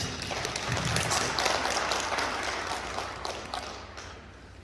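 A church congregation applauds in thanks to the preacher during a New Year revival worship service at a prayer retreat, dense sustained clapping filling the hall and slowly tapering off near the end.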